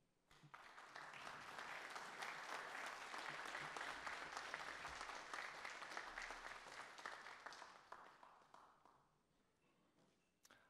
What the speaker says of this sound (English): Board members, please stand up for a big applause.